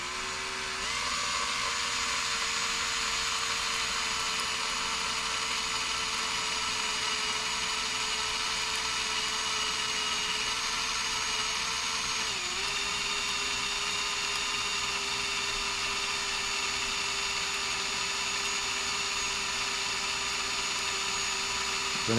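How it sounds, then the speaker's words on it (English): A steady, high-pitched whine of a power drill running continuously, with a brief dip in pitch midway as it bites into the metal core plug of a David Brown 880 tractor engine. "we're going to drill a hole in it"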